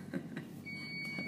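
A faint electronic beep tone sounds briefly, thin and steady, over quiet background noise.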